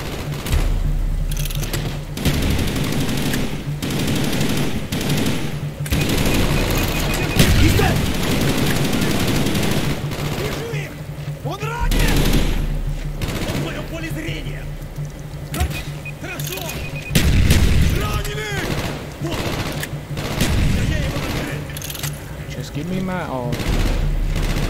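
Machine-gun fire rattles in repeated bursts during a video game firefight, loud and sustained, broken by short pauses, with voices talking over the shooting.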